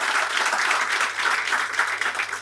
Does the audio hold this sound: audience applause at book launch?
yes